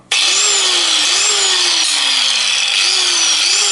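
An electric axe-sharpening machine's motor starts abruptly and runs loud and steady, with a whining tone that dips and rises as the sanding surface is pressed and worked against the axe.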